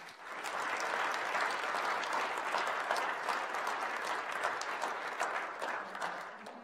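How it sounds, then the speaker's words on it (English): A second round of audience clapping for a panel at a cyber career event, a thick, continuous patter of many hands sustained at a steady level throughout with no voices on top. "Another round of applause for the panel,"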